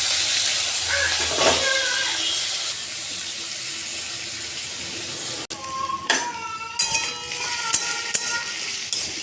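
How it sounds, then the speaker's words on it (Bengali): Potato and capsicum fry in oil in a pan with a steady, hissing sizzle, broken midway by a sharp clatter and followed by uneven stirring and scraping noises. "আমার এই আলুটা ভাজা ভাজা হয়ে গেছে।"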